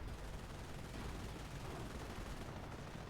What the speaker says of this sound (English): This AT gun's hitting this one in the side.